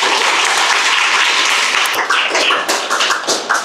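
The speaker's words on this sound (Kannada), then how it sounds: "ಚಪ್ಪಾಳೆ ತಟ್ಟಿ ನೋಡೋಣ." Enthusiastic audience at a stock-market trading seminar breaks into dense, sustained applause, many hands clapping together close by, loud and steady before thinning slightly toward the end.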